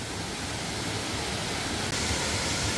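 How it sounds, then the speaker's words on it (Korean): A hidden waterfall about 7 m high in Myungji valley, Gapyeong, gives a steady, dense roar of falling water close by, constant and loud throughout with no voices. "아, 여기는 숨겨진 폭포입니다."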